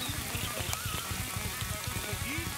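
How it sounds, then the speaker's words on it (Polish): Heavy rain pouring down during a carp fishing outing, a dense steady patter of drops hammering close by with no letup. "Strasznie deszcz leje, boję się o kamerę po dzisiejszym wyjeździe."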